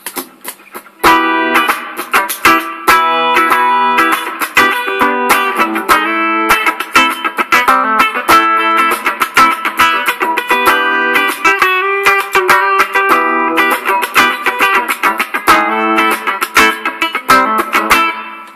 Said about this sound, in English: It's not a bad reverb sound at all, that.